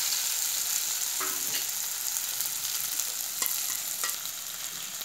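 Steady, close sizzling of pigeon pea dal poured over softened, sautéed raw mango pieces in a hot pan, with a continuous bright hiss and a few faint stirring scrapes throughout.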